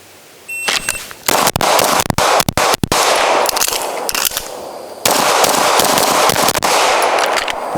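Rapid strings of close, loud gunshots fired at targets during shooting training, bursts of sharp cracks with brief pauses and a reload gap, no talking.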